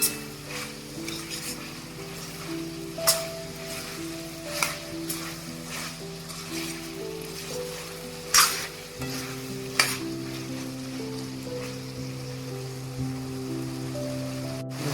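A spoon stirs a spiced potato mixture in a frying pan, sizzling softly beneath a series of sharp scrapes and clinks against the pan at irregular intervals.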